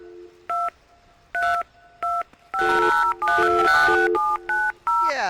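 A telephone keypad dials in the video game Jurassic Park: Trespasser, with separate tone beeps at first and then a fast run of overlapping button tones, loud and close.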